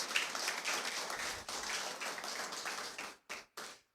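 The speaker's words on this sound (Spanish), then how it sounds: "Yo estoy liberando un aplauso porque estamos llamados." A church congregation applauds, a burst of mixed clapping that thins out and ends in a few scattered, separate claps, moderately distant.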